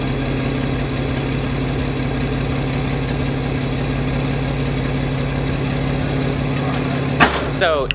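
A Nissan Z31 with a straight-pipe exhaust idles while warming up, a loud steady low rumble with a pulsing throb that continues throughout, followed by a brief clatter near the end.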